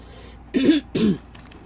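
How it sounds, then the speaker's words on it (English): Two short, rough throat-clearing coughs close to the microphone, one after another, followed by quiet. "I will be coughing, I know"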